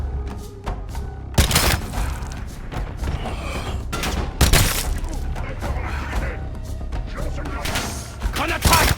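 Gunfire and explosive impacts in the Call of Duty Black Ops 7 video game, loud sharp bursts and thumps scattered over a busy, dense battle mix.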